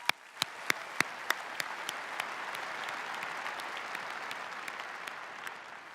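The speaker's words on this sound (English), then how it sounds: "How about another round of applause for those folks?" A large audience applauds a youth symphony orchestra and its soloist, a few loud individual claps ringing out at the start before a dense, steady wash of clapping fills the hall.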